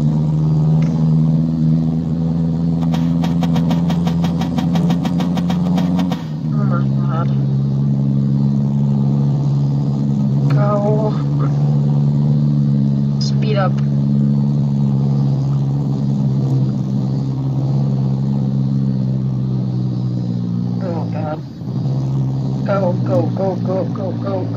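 A slow beater car's engine in the Midnight Racing video game drones steadily throughout with a low, even rumble, interrupted by a brief burst of buzzing and small rattles.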